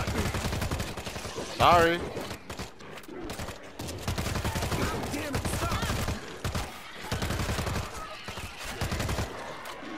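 Rapid bursts of gunfire from the zombie shooter Z Pandemic crackle in quick clustered volleys throughout, with players talking over the shots and one apologizing.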